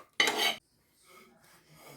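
A short burst of scraping and clinking, like a spoon stirring in a bowl, followed by softer faint rustling.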